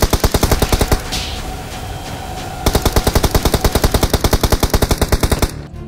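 Rapid bursts of automatic gunfire in the game BGMI rattle in a fast, even rhythm, loud and close, with a short pause between two long volleys.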